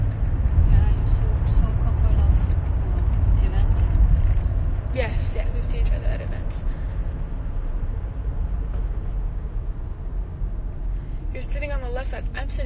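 Car driving, heard from inside the cabin as a steady low road and engine rumble that eases slightly partway through, with someone talking over it.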